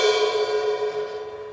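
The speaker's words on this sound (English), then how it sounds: "Usually if you hit them on their shoulder, they'll sort of make a gongy sort of sound." A 16-inch AA-series crash cymbal struck on its shoulder gives a close, gongy metallic ring that starts loud and slowly decays with sustained shimmering overtones, heard alone.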